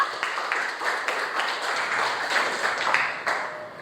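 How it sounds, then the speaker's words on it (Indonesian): A fourth-grade class at SD Bukit Gloria claps together, a close, sustained patter of small hands with some sharper individual claps standing out. "Tepuk tangan dong buat kita semua"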